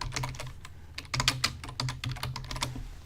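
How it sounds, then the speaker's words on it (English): Close, quick typing on a computer keyboard, a rapid irregular clatter of key presses with a short pause before a denser burst, no speech. "I guess I can just go here and type in Elon Musk"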